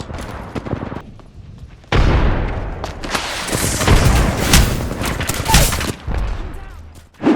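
Gunfire from a free-to-play online video game, a loud dense stream of bursts and shots that swells after a brief quieter opening and carries on almost without pause, with a final blast at the end.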